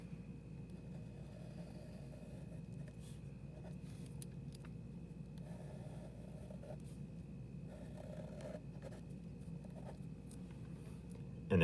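A pen sketching a graph of a rational function on paper during a precalculus lesson, heard as faint, soft scratching strokes under a steady low room hum, with no speech.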